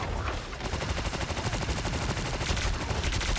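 Rapid automatic gunfire in the video game Eternity, a dense, loud stream of shots rattling continuously with no pauses and no speech.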